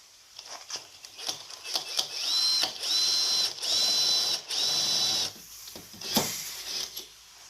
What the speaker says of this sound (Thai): ใส่สว่านเข้าไปแบบนี้นะครับผม